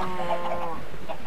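Minecraft chickens on a makeshift farm, a few short clucks repeating in quick succession, moderately faint over a soft background.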